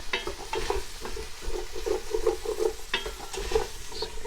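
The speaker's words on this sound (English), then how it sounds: "the onions have been cooking for maybe about 3 minutes now" Onions sautéing and sizzling in a pan for chicken tagine, a steady frying hiss with soft stirring scrapes and a few sharper clicks, close and moderately loud with no talk.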